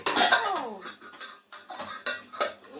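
A metal ladle tumbles off a kitchen stand with a sharp clatter and a few rattling knocks of utensils, loud and close; a voice is briefly heard at the start.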